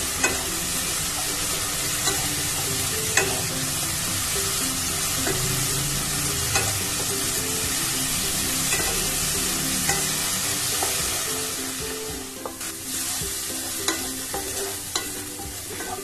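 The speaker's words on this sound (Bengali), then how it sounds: "মশলা সুন্দর কষানো হয়ে গেছে, মশলার থেকে তেলও ছেড়ে দিয়েছে" Powdered spice masala sizzles in hot oil for a Bengali jackfruit (echor) kalia curry, a close, steady frying hiss broken by repeated spatula scrapes and stirring strokes throughout.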